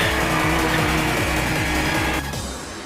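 A car drifting through a race duel in the Initial D anime, its engine roaring loud and steady with a harsh, sustained tire squeal under it, then cutting off abruptly near the end.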